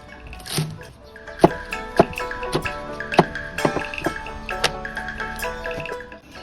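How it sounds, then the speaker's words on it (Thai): A knife chops choy sum greens on a cutting board while preparing Thai chap chai soup, with a series of irregular, crisp chops over steady background noise. "หั่นผักกวางตุ้งครับ"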